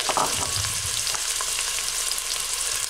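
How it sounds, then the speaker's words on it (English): Onion sautés in olive oil in a cooking pot, a close, even sizzling hiss with scattered crackles and a few soft stirring knocks early on, no talking. "add the onion to sauté"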